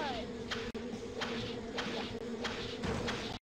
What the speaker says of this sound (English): You're being attacked by bees